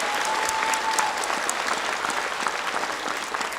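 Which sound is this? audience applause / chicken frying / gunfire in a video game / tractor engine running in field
audience applause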